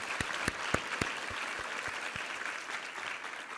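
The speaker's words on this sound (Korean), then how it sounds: "우리 하나님께 감사와 영광의 박수 올려드리겠습니다" A church congregation applauds during a Christmas Eve evening service, sustained clapping with a few sharp louder claps standing out at the start, then a steady wash of hands continuing to the end.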